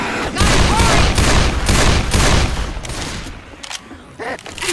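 Loud bursts of rapid video game gunfire crackle in overlapping volleys, easing off near the end, with voices shouting over the shots.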